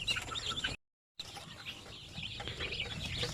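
Newly hatched chicks peep in a steady high chatter of many small overlapping chirps, close by and continuous, broken by a brief silent gap.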